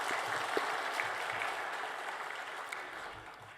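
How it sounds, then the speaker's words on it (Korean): A church congregation at a Sunday service claps together, a dense, steady wash of applause that fills the room and slowly tapers off toward the end. "우리 하나님께 감사와 영광의 박수를 한번 올려드리도록 하시겠습니다"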